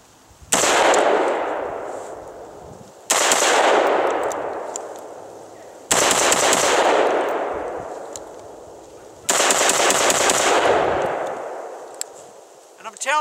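A Bravo Company Manufacturing lightweight AR rifle fired at an outdoor range: four loud, evenly spaced shots about three seconds apart, each with a long echoing decay.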